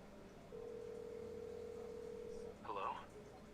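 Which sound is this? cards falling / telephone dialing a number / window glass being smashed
telephone dialing a number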